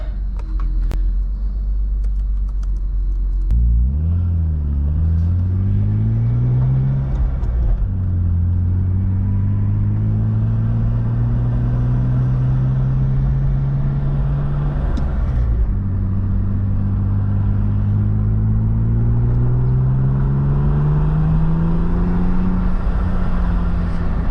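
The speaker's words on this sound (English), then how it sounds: "Does not like to catch idle very well." A turbocharged BMW E36 M3 engine idles roughly, its low rumble dipping and surging as it hunts for a steady idle before the revs sag and it stalls; loud and close, with no talking.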